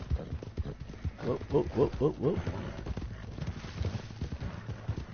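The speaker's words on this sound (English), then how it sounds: "Horse digging into the ground." Horse in the Western game Red Dead Redemption 2 glitching and digging into the ground, giving a quick run of about five hoof-like clops with steady in-game ambience and a brief voice.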